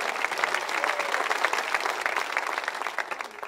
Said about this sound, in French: Voulez-vous applaudir le ressuscité avec moi?